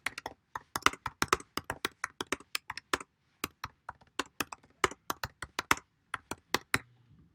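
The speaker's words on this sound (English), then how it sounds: "This time all you've got to do is type in some new words." Close, crisp clicking of keys on a computer keyboard, a quick irregular run of taps with brief pauses, alone with no talking.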